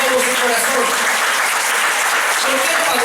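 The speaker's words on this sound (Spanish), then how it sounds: "Denle un fuerte aplauso a Jesús entonces con todo su corazón" A church congregation breaks into loud, sustained applause, a dense continuous wash of clapping with voices mixed in throughout.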